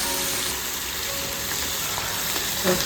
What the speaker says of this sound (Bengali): ইলিশ মাছটা আমি এখন ফ্রাই করছি